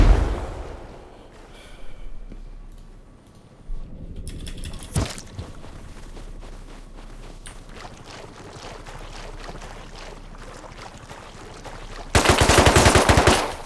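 Automatic gunfire in the survival video game Rust, sustained bursts running through the whole stretch and turning loudest in a heavy closing burst near the end, with no talk over it.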